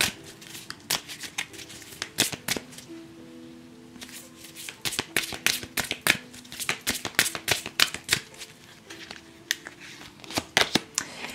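Tarot cards are shuffled by hand, a close run of quick riffling slaps and flicks in irregular bursts, fairly quiet with no talk.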